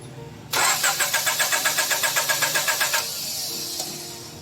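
A Honda Civic VTEC engine, reluctant after an engine wash, cranks in a fast run of even starter pulses for about two seconds, then catches and settles into a loud, steady idle.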